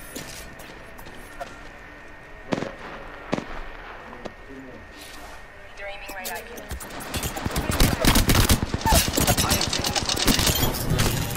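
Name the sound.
gunfire in the video game Apex Legends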